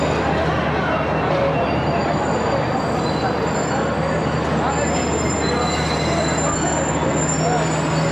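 The Awam Express rumbles loudly and steadily at Nawabshah station, heard from inside an AC Standard coach, with thin wheel squeals ringing above the constant roar and faint voices underneath.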